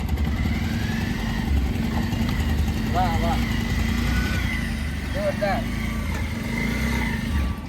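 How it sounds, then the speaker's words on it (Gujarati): A motorcycle creeps along at very low speed during a slow bike challenge, its engine idling steadily throughout under continuous crowd noise, while people cheer and talk close by. "હવે બાઇક આગળ ઘુમાઈને લાવે છે"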